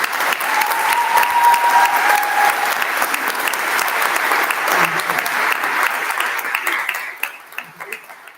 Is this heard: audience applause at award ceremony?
yes